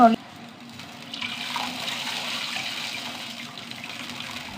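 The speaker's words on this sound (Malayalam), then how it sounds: "ചാറിന് ആവശ്യമുള്ള വെള്ളം നിറയെ ഒഴിച്ചാൽ" Water pours steadily into a cooking pot for several seconds, a continuous rushing splash after a brief faint sound at the start.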